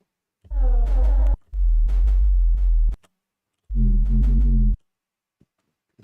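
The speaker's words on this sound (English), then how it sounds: "this two oscillator high sine wave is adding some nice harmonics" Bright Serum 2 synth patch built from high sine wave oscillators, sounding as three sustained tonal notes with rich harmonics and sliding pitch, about a second each, separated by short silences and heard alone without talk.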